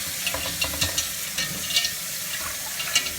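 Tap water running and splashing in a sink while a cast iron Dutch oven is rinsed, with scattered clinks and scrapes of the heavy pot against the basin, close and moderately loud.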